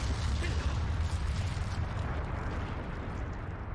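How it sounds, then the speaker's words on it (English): Bombs explode in an anime episode, a dense, deep rumbling barrage of booms that rolls on continuously and gradually eases off. "Oh, the bombs!"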